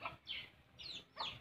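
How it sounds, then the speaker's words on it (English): Chickens and guinea fowl on a poultry farm give a few short, sharp clucks and calls, fairly faint and spaced apart, with quiet farmyard ambience between them. "This is a farm of chicken."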